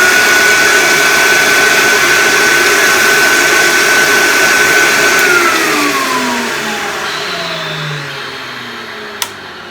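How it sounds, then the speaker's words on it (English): A VPI record-cleaner vacuum dryer roars loudly and steadily while drying a 78 RPM record, then its motor note winds down as the suction cuts off near the end. "then you can dry the record using this vacuum dryer."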